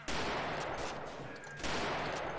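Soldiers firing rifles in Mount and Blade 1866 make dense, continuous gunfire, a loud rattling fusillade of overlapping shots with a brief lull in the middle before the volley swells again.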